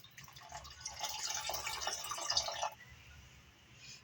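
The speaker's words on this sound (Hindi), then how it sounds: "पानी कुछ कम है तो मैं वही चनों का पानी जो हमारा बचा हुआ है उसी को डाल दूंगी इसके अंदर" Leftover water from cooking black chickpeas is poured into a pan of gravy, making a steady close splashing trickle for a couple of seconds before it stops and leaves a quiet hum.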